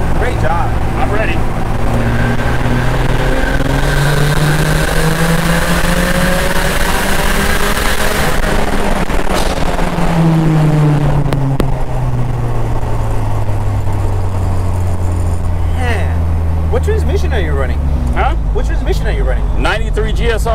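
A 450 HP 1990 Honda Civic EF engine revs and accelerates, a loud, sustained roar with rising and falling pitch sweeps through the gears, heard from inside the car.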